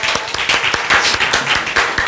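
A church congregation claps in welcome during a Sunday service, a brief burst of close, crisp hand claps in an uneven rhythm.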